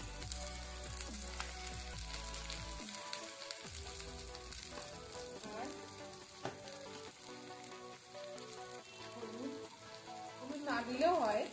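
Capsicum and chopped chilli fry in a small wok with a steady, close sizzling hiss that runs throughout, broken by a few light stirring knocks and faint background voices.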